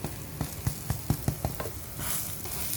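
Fish roe frying in a pan, a steady sizzle with a run of sharp pops and spits in quick rhythm, then a broader hiss swelling near the end, close and alone.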